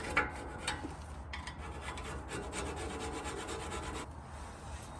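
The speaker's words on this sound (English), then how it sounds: "Get it on the front side and on the back side and scrape until it's smooth." Corrosion is scraped off the slide surfaces of a Ford F150 rear brake bracket, a close, steady rasping of metal on metal in short repeated strokes, with no talking.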